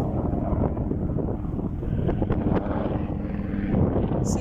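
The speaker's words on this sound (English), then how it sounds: "Super loud helicopter." Low, rumbling rotor drone of a helicopter passing overhead, loud and steady, mixed with gusty wind buffeting the microphone.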